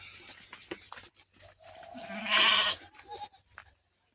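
A sheep gives a single loud, wavering bleat close by at a village farmhouse, amid a few faint background voices and rustling.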